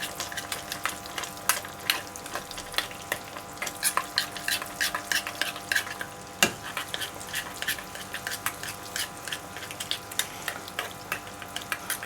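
Miso is stirred into a pot to dissolve it while cooking Osaka-style doteyaki, a spoon clicking and scraping in repeated quick strokes over a faint bubbling simmer, one sharper knock partway through.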